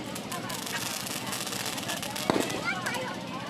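Firecrackers burst during a village Lakshmi Puja celebration, a few crackles and one sharp pop at moderate distance while people talk over them.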